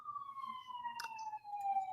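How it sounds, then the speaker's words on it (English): A single emergency siren wails in a long, slowly falling tone, faint and somewhat distant, steady throughout with a brief click partway through. "Oh, sirens."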